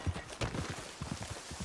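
Horse hooves clip-clopping in the video game Red Dead, a steady run of soft low thuds that comes up close and carries on alone at a moderate level.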